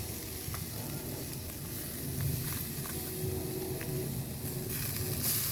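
A pork chop sizzles over a burning wood fire outdoors, making a steady, close hiss with small crackles and pops that stays even throughout and has no voices.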